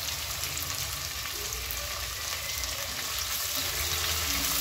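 Red onion fries in a pan with a steady, even hiss of sizzling oil. The sound is moderately quiet and continuous, with no voices.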